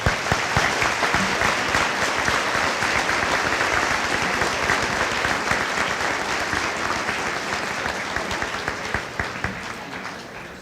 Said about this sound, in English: Please give them applause